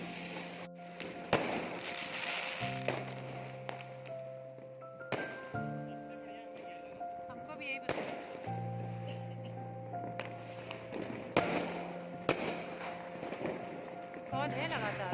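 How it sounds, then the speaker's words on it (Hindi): Diwali fireworks and firecrackers bursting at night, sharp cracks and thumps scattered across the clip amid festive music and voices. "देखिए ये पटाखे कितने ही खूबसूरत लग रहे हैं।"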